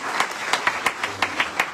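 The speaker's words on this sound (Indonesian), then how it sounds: "Kasih tepuk tangan untuk Daniel." An audience at a Sunday service claps for Daniel, a brief burst of steady, rhythmic clapping with evenly spaced beats, close and fairly loud, with no voices over it.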